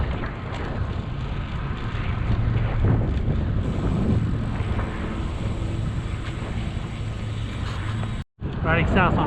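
Strong wind roars steadily across the microphone on a cool Good Friday road bike ride, a loud buffeting rush that fills the whole clip, with a brief dropout near the end.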